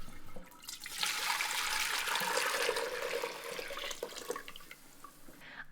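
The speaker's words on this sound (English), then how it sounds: "I'm just going to give this a quick rinse with water." Tap water runs steadily for several seconds to rinse a metal strainer at a kitchen sink, a broad continuous hiss with small splashes, close and moderately loud, easing off near the end.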